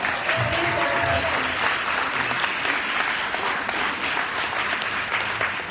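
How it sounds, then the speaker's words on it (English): Sustained applause from a crowd, steady and dense throughout, with a few faint voices mixed in. "Give him a round of applause."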